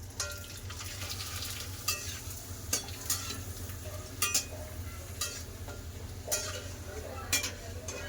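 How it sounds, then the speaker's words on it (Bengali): Papad fries in hot white cooking oil, a soft steady sizzle punctuated by light crackles and occasional stirring clicks, close and fairly quiet. "একটু পাঁপড় ভেজে নি তেল গরম হয়ে গেছে"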